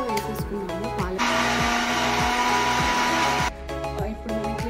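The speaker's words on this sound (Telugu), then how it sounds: "మిక్సీలో వేసేసుకున్నాము పాలక్" A mixer grinder whirs loudly as it blends spinach, a steady high-pitched roar of about two seconds that starts and stops abruptly, with tonal background sounds before and after.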